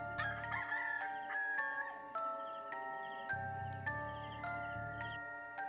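A rooster crows behind a fence, its calls faint and distant beneath a steady, tinkling musical backdrop that runs throughout.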